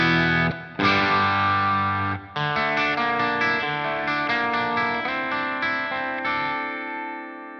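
Telecaster electric guitar played clean through Dophix pedals: ringing chords and single-note phrases, close and steady, with a touch of shimmer and light ambience, no voices.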